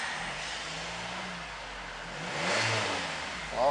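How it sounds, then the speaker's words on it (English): A Nissan X-Trail with a QR 2.5 petrol engine, automatic and all-wheel drive, revs once at a wrecking yard, rising from a low idle to a brief surge and settling again, heard close and alone. "I'll give it a rev for you."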